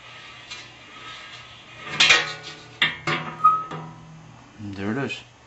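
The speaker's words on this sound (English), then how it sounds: "you turn the blade clockwise, the same rotation that the fan will be turning, and the blade should unscrew." Metallic clinks and knocks as the blade of a 1965 Emerson electric table fan is unscrewed, several sharp taps spaced apart over a low hum, with a brief voice near the end.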